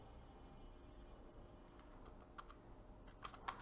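Keys clatter on a computer keyboard as Python code is typed, a handful of light, sharp clicks and taps that grow more distinct toward the end, set against a low steady room hum.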